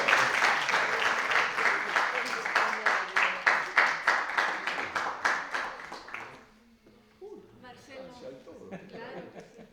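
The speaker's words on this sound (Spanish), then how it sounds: "muchas gracias, un aplauso." Audience applause after a lecture on democracy in Latin America, a strong round of clapping that fades out after about six seconds, followed by a voice speaking.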